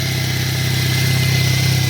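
A 2008 Chevrolet Cobalt engine idles steadily after a crank-no-start repair, with a loud, even, close rumble and a fast regular pulse throughout and no voices.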